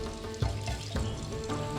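Shrimp frying in a pan over a cooking fire in a forest camp, giving a steady loud sizzle with a few bursts of crackling, alone without talk.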